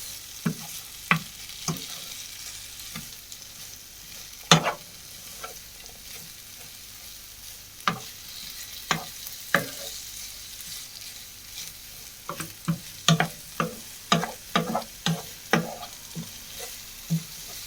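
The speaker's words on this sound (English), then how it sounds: "Just going to mix it up so it's quite evenly with the flavours" A homemade hash brown mixture is stirred and mixed in a bowl, with irregular soft slaps and sharp scraping knocks of a utensil spaced over a quiet background, getting quicker toward the end.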